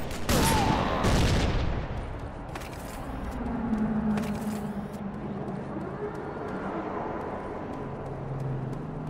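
Shotgun blasts and a grenade explosion in the video game Rogue Trooper Redux, with sharp loud shots in quick succession early on, followed by further bursts over a rumbling game background.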